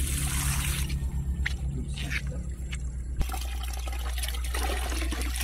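Water from a mountain source pours in a steady, loud, close rush, the flow shifting to a broader, smoother gush partway through and continuing without pause.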